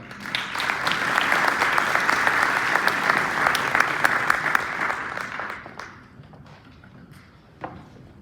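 Audience applause at a campaign kickoff welcoming a singer: steady dense clapping for about six seconds, then fading to scattered claps and quiet room noise.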